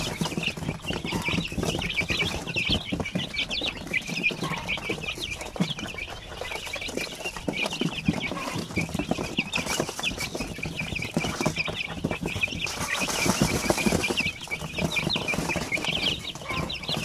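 A crowded group of chicks being sold, peeping and clucking constantly and loudly close by, a dense, unbroken chorus with no talking.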